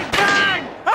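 Two loud, close gunshots from a toy-like kitchen cleaning gun in a comedy advert, a sharp blast ringing out almost a second apart, the second cut short.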